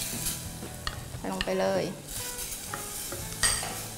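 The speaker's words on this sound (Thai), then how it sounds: "แกะเปลือกนะคะก็ใส่ลงไปผัดด้วย" Shrimp and squid are stir-fried in a pan for a seafood green curry, with loud sizzling and the scrape of a spatula stirring. Someone talks briefly over the cooking.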